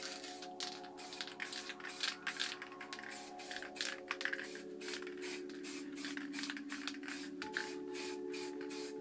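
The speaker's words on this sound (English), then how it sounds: "spray some paint through" Montana Gold spray paint hisses from an aerosol can in repeated short bursts, sprayed around lid stencils to outline planets in spray paint art, with a steady tonal hum running underneath.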